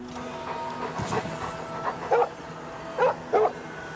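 A dog in the video game Oblivion Remastered gives several short, separate yips and whimpers that rise over steady background hum and game ambience, each cry sharp and brief.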